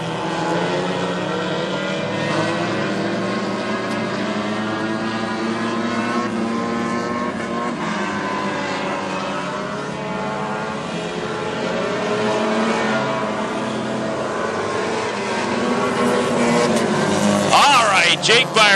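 Hornet-class race cars roar around Princeton Speedway in a continuous loud engine drone that swells and fades as cars pass, under a track announcer's commentary.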